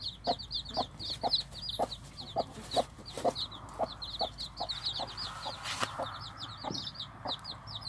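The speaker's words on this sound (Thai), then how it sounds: "ลูกไก่ชนครับตรงนี้" Gamecock chicks cheep and cluck in quick, continuous high chirps, close by and fairly faint, with scattered soft knocks underneath.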